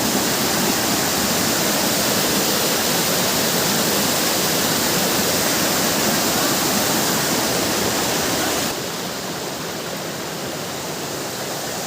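Dumkanusa waterfall in Kendujhar, Odisha, roars as a steady, loud, dense rush of falling water that fills the whole clip, easing slightly in level near the end.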